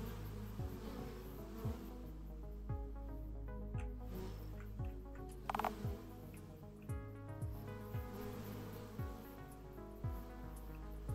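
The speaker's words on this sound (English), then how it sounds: "And I hear buzzing" Insects buzz in a shop-themed RPG video game, a continuous faint droning hum with repeated short chirps and soft blips from the game spread across the background.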